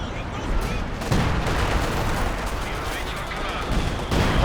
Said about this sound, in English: Being annihilated by the zeroing artillery.